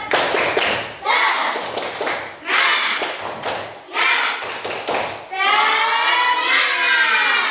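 A class of sixth-grade students performs a rhythmic clapping chant in a classroom, bursts of loud group claps alternating with chanted voices, ending in a sustained shouted cheer.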